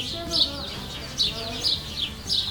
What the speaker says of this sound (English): There's birds in the ceiling right now that we're listening to